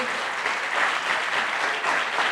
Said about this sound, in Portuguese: Mais uma salva de palmas para todo mundo que está aqui.